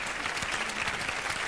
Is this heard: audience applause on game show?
yes